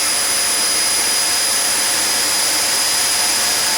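A vacuum cleaner converted to work as a blower runs continuously, giving a loud, steady, high-pitched rushing whine with no pauses.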